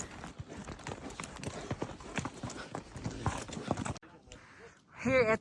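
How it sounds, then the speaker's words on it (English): Horse hooves clip-clop on a high-altitude mountain trail in Peru, a dense, close, uneven run of hoofbeats that stops abruptly, followed by a brief voice. "So the horse was fun to ride."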